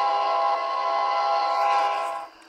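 Express train in a video game running on a New York to Texas route, a steady whistle-like tonal drone with rumble that holds for about two seconds and then cuts off.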